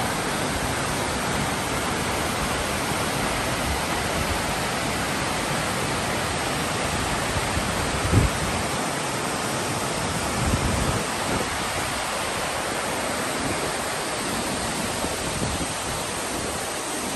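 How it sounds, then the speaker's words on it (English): A downtown Greenville waterfall with a bridge and a walking trail gives a constant, loud, broadband rushing roar that stays steady throughout, with faint passing sounds underneath. "Waterfall."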